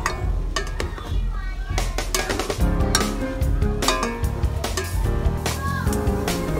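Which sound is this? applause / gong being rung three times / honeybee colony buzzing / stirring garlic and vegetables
stirring garlic and vegetables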